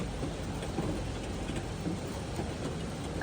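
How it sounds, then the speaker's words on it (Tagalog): Steady rain falls during Typhoon Wipha in Hong Kong, a continuous dense wash of drops with a low rumbling undertone, even and unbroken throughout the short stretch. "Nagatagaktak din ang ulan."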